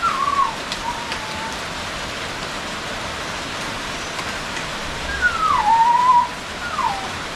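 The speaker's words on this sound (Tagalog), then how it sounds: "Lagi ng ulan dito sa amin, oh." Steady rain falls outdoors as a soft, even hiss throughout, with a few faint high whistling calls rising above it now and then.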